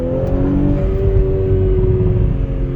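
An Audi S5 with a high-flow catalytic converter drones steadily under a revving engine during a downshift, a loud, close, continuous exhaust tone with no talking.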